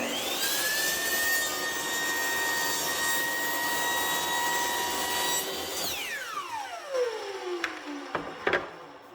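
A miter saw spins up with a high, steady whine while cutting a piece of trim for a bathroom remodel, then winds down in a long falling tone, followed by a few light knocks and clicks.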